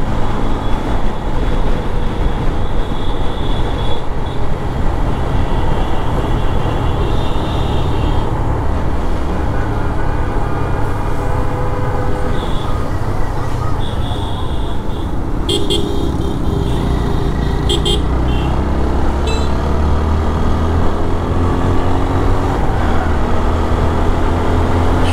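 A motorbike on a long-distance ride in Bangladesh opens up along an open road after a broken stretch, engine droning steadily and close with continuous wind and road noise, and a brief horn toot partway through.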